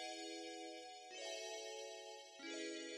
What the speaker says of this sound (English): I got this sound, the VS Bellboy, and then I added some strum to it.